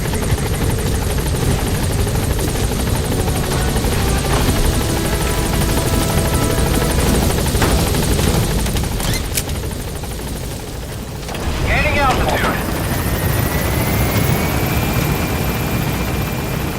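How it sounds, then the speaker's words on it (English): Support helicopter from the video game Metal Gear Solid V arriving at a landing zone: a loud, steady rotor drone fills the scene throughout, with a brief dip and a rising whine near the end. "Support helicopter has arrived."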